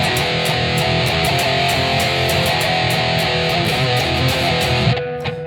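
A heavily distorted electric guitar chugs a fast, driving rhythm riff, dense and loud, cutting off abruptly near the end.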